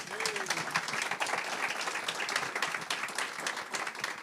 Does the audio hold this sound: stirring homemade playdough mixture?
no